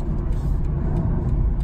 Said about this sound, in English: Acceleration, as you can hear, it's seamless. The car sounds really good.